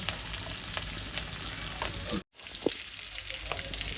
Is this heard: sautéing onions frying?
yes